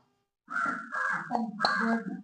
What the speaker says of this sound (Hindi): कौआ बोल गया